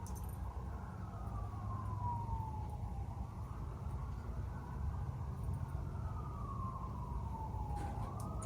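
A wailing siren rises and falls in long sweeps, fairly distant, over a steady low rumble of traffic or engine noise.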